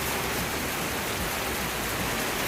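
Heavy rain pours steadily outdoors, a dense, continuous hiss of drops on surfaces with no pauses and no voices.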